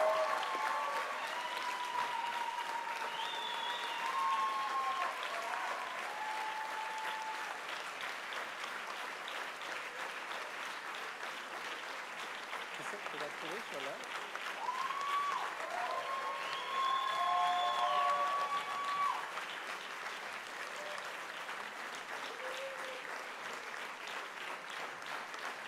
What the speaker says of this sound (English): Give them a round of applause because they've done a great job.